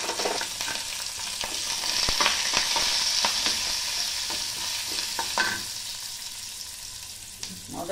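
Dal sizzles and crackles steadily as sliced curry leaves and green chillies go into the hot pan, with scraping stirs and occasional clinks throughout, fairly loud and close, no voices.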